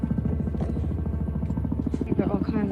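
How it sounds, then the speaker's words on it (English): Big helicopters flying overhead, a steady close rotor chop with a rhythmic pulsing drone that persists throughout, while a person talks over it. "You've got all kinds of big helicopters flying over."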